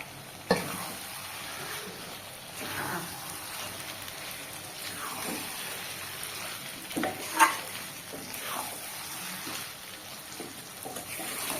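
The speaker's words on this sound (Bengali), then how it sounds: "এবার বেগুনটা দিয়ে দেবো, বেগুনটা ভাজাই রয়েছে।" Already-fried brinjal goes into hot oil and is stirred, giving a steady low sizzle broken by scraping strokes and a few sharp clinks of a utensil against the pan.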